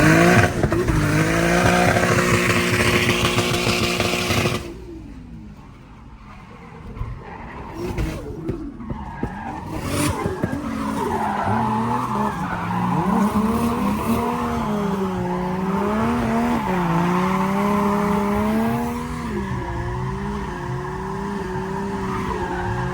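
A 500 hp naturally aspirated RB25DE car drifts with loud, sustained tire squeal and a wavering, revving engine that dips briefly before rising again, heard up close and continuous.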